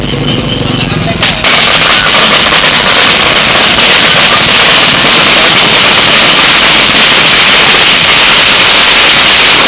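A dense, continuous barrage of firecrackers goes off during a Thai temple procession for a Lak Phra festival. Loud crackling bursts fill the whole stretch after a brief quieter start, with a faint voice underneath.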